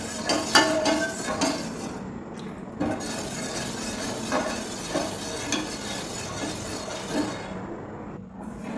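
Rice-flour batter stirred in a pan over a low flame: steady scraping and clinking of a spoon against the metal pan, with soft sizzling bubbling underneath, close and continuous, with no talk.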